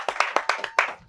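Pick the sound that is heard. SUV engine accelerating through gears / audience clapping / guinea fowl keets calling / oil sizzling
audience clapping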